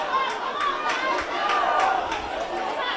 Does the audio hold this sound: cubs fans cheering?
yes